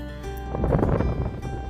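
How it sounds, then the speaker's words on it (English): Wind buffets and roars against the microphone in a low, gusty rush, rising briefly louder in the middle before easing. "The wind is just whipping outside."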